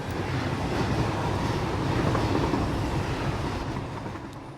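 Steady rumbling and clattering of a moving train in the factory-building video game Satisfactory, a continuous dense roll that holds fairly constant and eases off slightly toward the end, with no talking.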